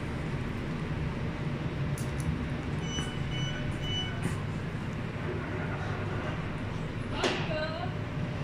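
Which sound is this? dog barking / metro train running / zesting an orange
metro train running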